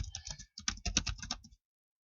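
Fingers type a web address on a computer keyboard in a quick, uneven burst of close, crisp key clicks, then stop.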